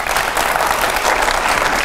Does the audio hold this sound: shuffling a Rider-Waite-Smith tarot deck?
no